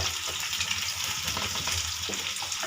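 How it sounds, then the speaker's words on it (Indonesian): Spices sautéing with lemongrass, bay leaves and lime leaves in hot oil, a close, steady bubbling sizzle with light crackles and soft stirring throughout, no voices. "Kita tumis sampai harum, kemudian saya campakkan serai, daun salam dan juga daun limau lebih sedikit"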